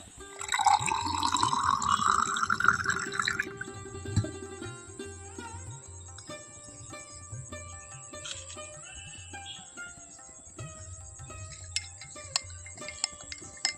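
Water is poured and mixed into homemade Glucon D powder in a glass. A rising pouring fill comes first, followed by faint dripping, clinks and liquid stirring nearby.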